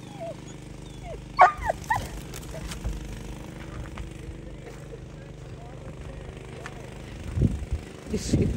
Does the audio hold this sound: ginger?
no